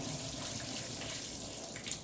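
Rinse water pours steadily out of washed rice, a continuous close splashing rush with no pauses and no talking.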